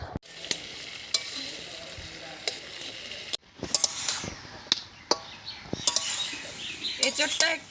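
Young jackfruit frying with potato pieces and rendered meat fat in a pan, stirred with a utensil that clacks and scrapes against the metal in irregular knocks over a low, steady sizzle.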